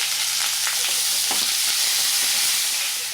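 Peanuts, curry leaves and finely chopped onion fry in a pan for vermicelli upma, giving a loud, steady sizzle with a few faint stirring scrapes and no talk.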